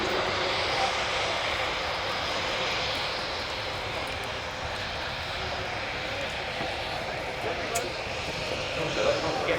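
Engine of a Pilatus PC-9M turboprop trainer flown by the Slovenian Armed Forces during an air show flying display, a steady broad roar holding at a constant loud level throughout, with speech from a commentator over it.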